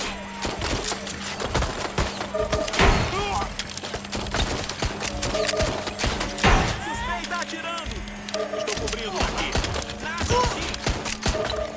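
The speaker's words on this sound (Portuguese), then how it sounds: "Levando o tiro!" Gunfire in the video game Watch Dogs Legion, rapid bursts of shots and impacts in a busy, dense mix alongside game voices and effects.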